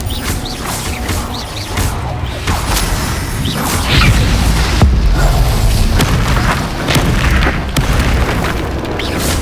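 Incendio fire spell blasts in the video game Hogwarts Legacy, heard as a dense, continuous run of booming bursts and whooshes during combat, loud and close throughout with no talk.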